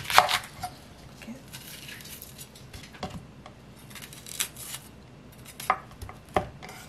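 A knife chops a fresh new-season onion on a board: sparse, irregular sharp cuts, close and fairly quiet, with no talk.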